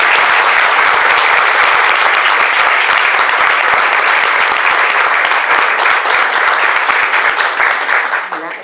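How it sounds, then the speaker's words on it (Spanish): Audience applause welcoming two teacher-authors at an education book presentation, dense sustained clapping from a full room, loud and steady before tapering slightly at the end. "a quienes les damos un fuerte aplauso para recibir"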